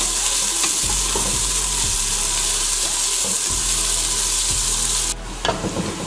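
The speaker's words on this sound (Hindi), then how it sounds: "अब हम इसमें शामिल करेंगे प्याज, प्याज को लाइट गोल्डन करेंगे" Onions frying in hot oil in a pan, turned toward light golden, a loud steady sizzle with stirring scrapes throughout, then a brief shift near the end.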